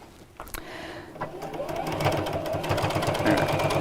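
Sewing machine top stitching around a bag, a steady rapid mechanical rattle that starts after a few clicks and builds, close up, with a voice talking faintly underneath.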